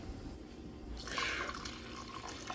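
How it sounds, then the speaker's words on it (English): Water being added to pork chops in a slow cooker, a soft pour with light dripping and splashing that swells midway, close and moderately quiet. "I'm gonna go ahead and add some more water to this."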